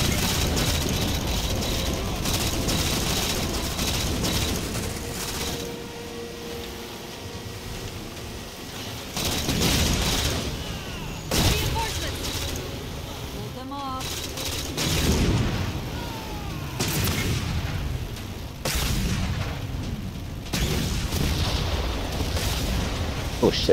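Gunfire and booming blasts from Halo 4 combat, with repeated loud bursts and heavy explosive thuds rolling over a busy mechanical background, people talking over the action at times.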